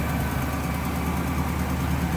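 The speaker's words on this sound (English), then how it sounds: "original engine to the car, 3-owner car, with a C code," Original 289 V8 engine of a 1966 Ford Mustang convertible idling, a steady, low, even rumble close by with no talk over it.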